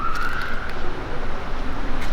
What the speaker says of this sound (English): I just thought I heard a siren